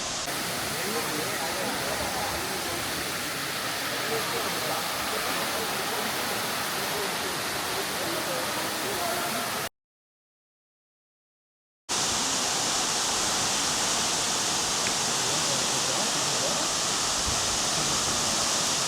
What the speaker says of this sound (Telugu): సో ఇదనమాట వాటర్ ఫాల్స్